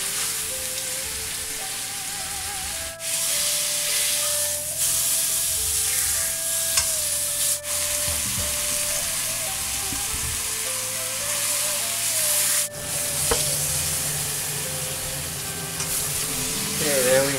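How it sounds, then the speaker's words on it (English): Pot roast meat searing in a very hot pan, a loud steady sizzle and crackle running throughout, with occasional clinks and shifting bursts as the meat is turned. "We just want to burn the entire outside real hot, real fast."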